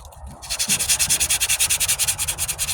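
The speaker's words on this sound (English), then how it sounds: "So I switched to this 80 to get some of those 40 where it's sanding scratches out, and it's a little bit less aggressive." Hand sanding of body filler on a 1998 Ford Ranger tailgate with 80 grit sandpaper: rapid, rhythmic back-and-forth rasping strokes, close and loud, about two dozen even passes after a brief pause, with no speech.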